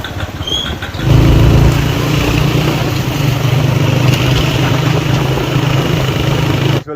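A motorcycle engine runs at a Friday market in a village in Dadyal. It starts after about a second as a steady, fairly loud, low drone that holds on to the end, over a busy outdoor background with no clear talk.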